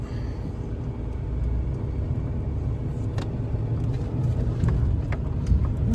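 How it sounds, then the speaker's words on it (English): A pickup truck pulls out of a rural property, its engine rumbling low and steady close by, with road noise and a brief rattle as it moves off; no talking. "let's see how the truck does getting out"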